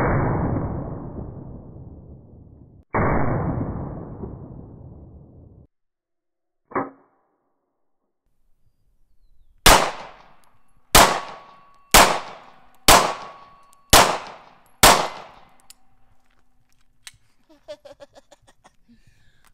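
Five loud, sharp gunshots from a Maverick JS 9 pistol ring out about a second apart, each with a short echoing tail, after earlier bursts of hissing noise and a single clank.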